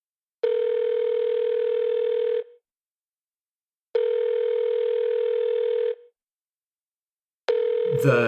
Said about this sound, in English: Kincaid speed dials the number for his superior, codenamed You.